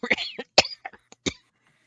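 A few close, sharp coughs in quick succession, with short throat-clearing bursts between them.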